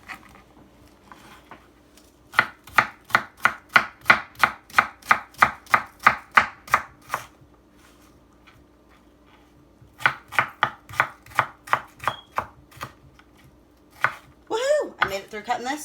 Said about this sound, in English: Made it through cutting this onion without my eyeballs watering.